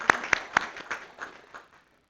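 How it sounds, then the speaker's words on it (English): Sparse, brief applause from a small council meeting audience, a few distinct claps early that thin out into scattered quieter claps before fading to silence. "let's give Mary a round of applause"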